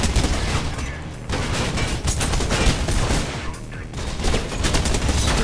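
Automatic gunfire in the video game Mirror's Edge comes as rapid, loud bursts of crackling shots, with two brief pauses between long sustained volleys.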